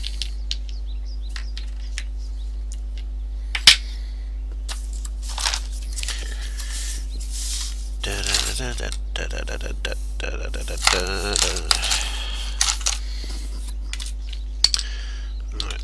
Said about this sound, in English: Opening a keyboard with a spoon to change batteries, indeed.